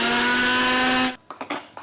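A kitchen mixer grinder jar whirs at full speed blending a mango ice cream mixture made without sugar, milk or cream. The steady, loud motor hum cuts off abruptly, followed by a few light knocks.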